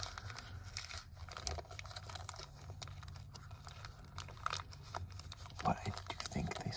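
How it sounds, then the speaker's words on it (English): Soft crinkling and tearing of material sounds close by, faint and continuous with scattered crisp crackles and a few louder rustles near the end, without speech. "I don't like the sound of crinkles in person"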